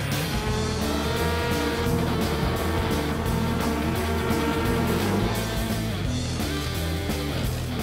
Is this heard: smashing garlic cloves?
no